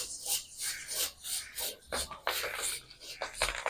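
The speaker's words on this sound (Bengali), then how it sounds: "এবার আমি ধানগুলোকে একটু ভেজে নেব ধান দিয়ে দেবো দিয়ে নেড়ে দেবো" Paddy rice grains stirred through hot sand in a pan for puffing into khoi, giving a steady scraping, gritty rasp in repeated strokes, close and moderately loud with no talk.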